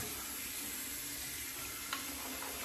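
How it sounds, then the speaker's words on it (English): Water runs steadily from a tap as items are rinsed beneath it, a continuous close hiss with one brief knock near the end and no talking. "Gotta rinse out my stuff."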